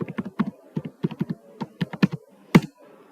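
Username and password entered on a computer keyboard at a Linux terminal: a dry sequence of close, crisp key clicks in uneven rhythm, with one sharper final keystroke like an Enter press, no voices.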